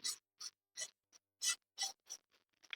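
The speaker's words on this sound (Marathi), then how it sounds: "मी असंच खोबरं भाजून घेत आहे लो फ्लेम वरती" Grated coconut stir-roasted over a low flame in a pan gives a run of dry, raspy scraping strokes, about eight in under three seconds, close and fairly quiet with short pauses between them.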